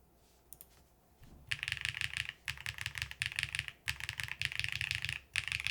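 Rapid, dense keyboard typing on a plateless DK1-60 board fitted with Keygeek Ash switches and GMK keycaps, coming in close bursts of clacky keystrokes with short pauses between them after a quiet start.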